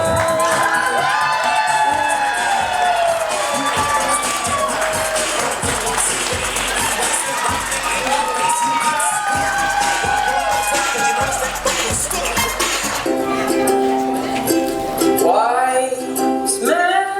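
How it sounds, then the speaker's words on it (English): A wedding reception crowd cheers and claps as the newly married Mr. and Mrs. Hill are welcomed in, with loud, sustained whoops and shouting over music that carries on throughout. "with an even bigger round of applause, welcome in Mr. and Mrs."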